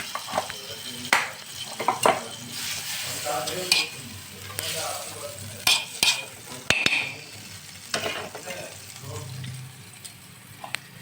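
Butter melting and sizzling in a pan for carrot halwa, a constant close frying hiss broken by repeated clinks and scrapes of a spoon against the pan, with a voice speaking now and then.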